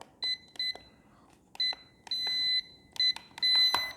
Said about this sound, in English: long beep when you go to the center.